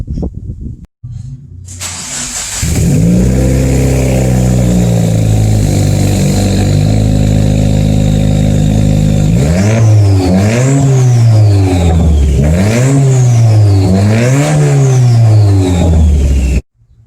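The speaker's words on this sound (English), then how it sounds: "Looking at the rear end, we got the Invidia N1 exhaust, single exit." Subaru WRX with an Invidia N1 single-exit exhaust, loud and close, rising from a steady rumble into several sharp revs that climb and fall in quick succession before cutting off.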